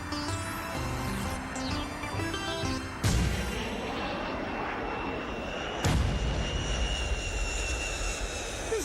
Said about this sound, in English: How that plane can still fly with that enormous hole in it.